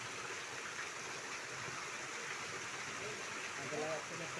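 Mountain stream flowing down from Ranwalagala mountain at Peeli Hatha Ella, a steady broad rushing of water, fairly faint and even throughout with no distinct splashes.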